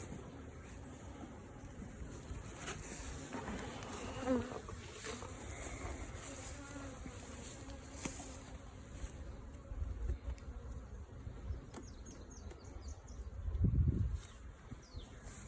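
Honeybee field bees return to a hive, giving a steady, faint buzzing hum that runs throughout with occasional closer passes.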